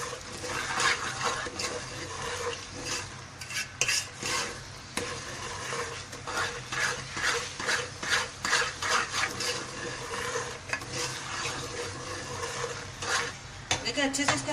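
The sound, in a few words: stirring sooji halwa in a pot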